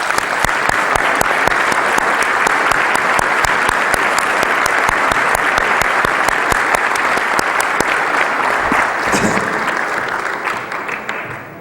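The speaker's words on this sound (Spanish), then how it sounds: "quiero que le demos un aplauso a Manuel" An audience at a book presentation gives a speaker a long, loud round of applause, with sharp individual claps ringing out over steady crowd clapping that fades near the end.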